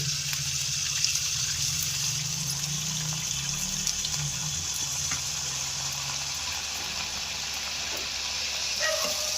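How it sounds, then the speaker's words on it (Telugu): Pongadalu dough dropped into hot oil for frying, giving a steady loud bubbling sizzle with a soft low rumble that fades midway, no voices. "ఇదిగోండి పొంగడాలు వేస్తున్నా. ఆయిల్ కాగింది."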